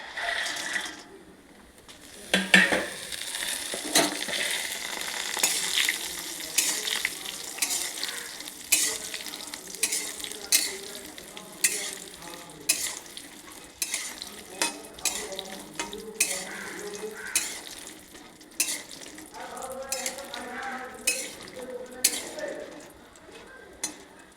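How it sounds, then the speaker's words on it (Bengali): Lentil dumplings (bori) fry in hot oil in a wok with a steady sizzle, broken by repeated scrapes and clacks as a utensil stirs them against the pan. "বড়িগুলো এখন ভাজবো তেল গরম হয়ে গেছে কড়াইয়ের তেল গরম হয়ে গেছে এখন বড়িগুলোকে ঢেলে দিই"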